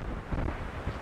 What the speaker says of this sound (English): It's super windy right now